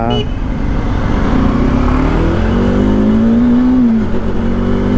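A Hero Splendor motorcycle struggles uphill, its engine revving loud and close, the pitch climbing steadily before dropping off sharply near the end.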